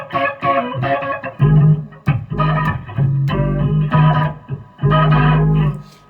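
Electric guitar run through a BOSS OC-5 octave pedal into a bass amp, giving a thick synth-like low octave under chordal comping; punchy, rhythmic phrases with sustained bass notes, loud and close, no talking.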